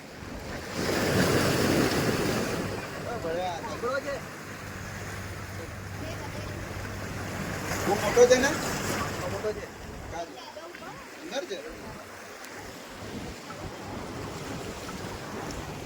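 Sea waves washing in at Dumas beach, a broad rushing surf with gusty wind buffeting the microphone, swelling and fading, with voices talking nearby.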